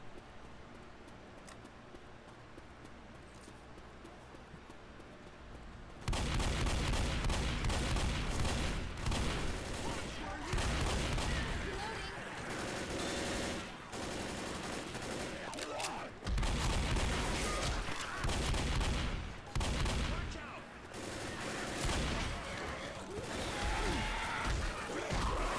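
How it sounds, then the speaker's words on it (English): Loud gunfire and explosive booms from Left 4 Dead erupt after a quieter opening, with dense rapid volleys and crashes that keep going almost without pause, and voices faintly mixed in. "I hear shooting."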